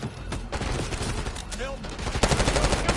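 Bursts of automatic gunfire crackle through a Black Ops 6 campaign battle, loud and close in rapid fusillades, with shouting voices over the shooting.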